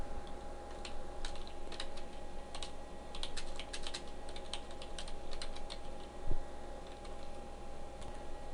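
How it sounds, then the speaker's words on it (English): Steady typing on a computer keyboard, quick clustered keystrokes with brief pauses, fairly quiet and close. "I'm going to start by typing a heading tag."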